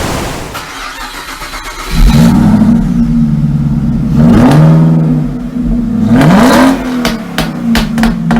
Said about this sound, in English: It's got a big V8 under the bonnet